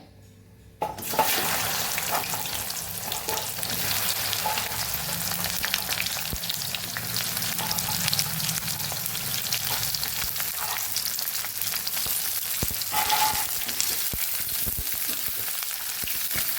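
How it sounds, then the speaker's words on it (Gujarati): Okra frying in hot oil for a Gujarati bhindi sabzi, a steady close sizzle that starts abruptly and holds throughout, with a few faint clinks and no talking. "તો અહીંયા આપણે તેલ સરસ ગરમ થઈ ગયું છે તો પહેલાં આપણે એમાં ભીંડા ઉમેરી દઈશું"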